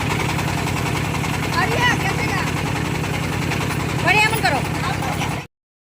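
A boat engine drones steadily with a low rhythmic throb at Sada Pathor, Bholaganj, Bangladesh, while voices chatter intermittently over it.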